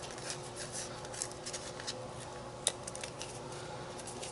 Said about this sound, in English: So now I'm going to take just a small pair of scissors. I'm going to cut out my Rolodex part